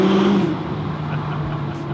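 A McLaren 570GT's turbocharged engine echoes inside a tunnel, a loud rev that drops in pitch as the car shifts, with a steady droning tone lingering after.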